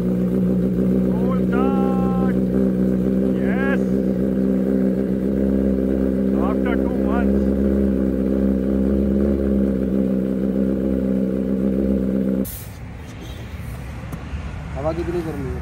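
A Royal Enfield Himalayan 450 motorcycle idles after a cold start, a steady low engine drone running loud and close, then dropping off sharply near the end; brief voices talk over it.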